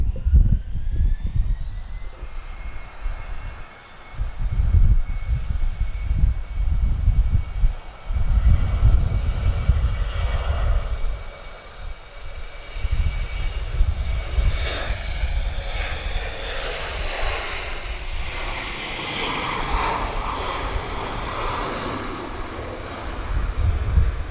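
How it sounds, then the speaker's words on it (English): Embraer E190 jet airliner engines roar loudly and steadily at Lisbon Airport, with a rising whine on top and gusts of wind buffeting the microphone. "that's a very very nice sounding Embraer E190"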